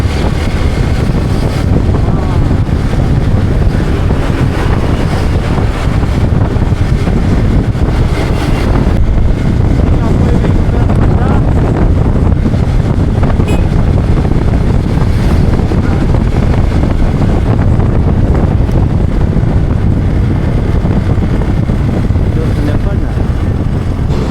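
A loud, steady engine drone runs without a break under heavy wind rumble, with water rushing close by and faint voices now and then.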